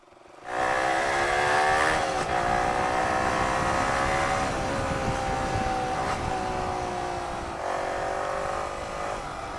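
Loud, steady motorcycle engine drone with surrounding road traffic, riding through heavy traffic below a bridge on a hot day; the engine pitch rises and falls with small throttle changes, and nobody speaks.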